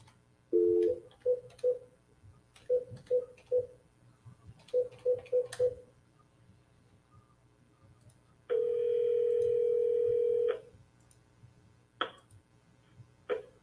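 Telephone keypad tones beeping in short bursts as a number is dialed, followed by a long steady dial tone of about two seconds and a couple of clicks, clear and isolated with no talking.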